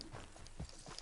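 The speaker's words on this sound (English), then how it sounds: "Horses will pull it clean down." Horses' hooves clop as a team strains to pull a load in Red Dead Redemption 2, a few uneven thuds close by over a busy game soundscape.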